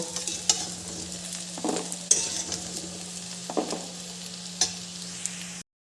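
Elephant foot yam pieces fry in oil with a low, even sizzle and a few stirring clinks against the pan, close by with no voices, before the sound cuts off.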